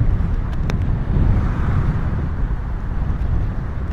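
Strong wind gusts across open water during traditional net fishing in the Philippines, buffeting the microphone in a constant low roar with faint boat and water sounds beneath.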